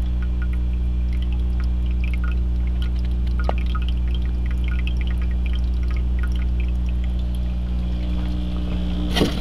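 Water trickles and pours steadily through a drain tube into a tank of an aquaponics deep water culture system, a constant close liquid flow over a low steady hum, with occasional small drips.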